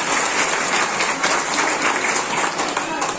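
A crowd claps loudly and continuously at a Sant Gadge Jayanti celebration held by the Dhobi community in Jhiriya, Dhamtari, a dense, even patter of applause filling the whole stretch.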